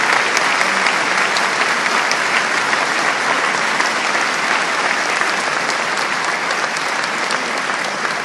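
Sustained, dense applause from a large crowd at a Confindustria Vicenza Verona business event held in a former industrial shed, loud and steady throughout with no speech over it.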